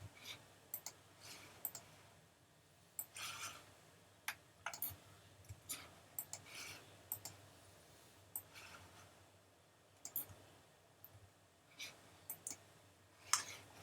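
Quick bursts of soft keyboard clicks, irregular and close, with short pauses between groups of keystrokes; no voices.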